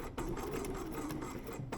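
A sewing machine runs steadily along a men's shirt seam, a close, continuous whirring hum of stitching with no pause.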